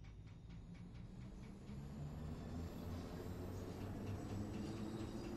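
A London Underground train in the video game Train Sim World 4 rumbles steadily, a low continuous drone of wheels and motors that swells slightly partway through, with no talking.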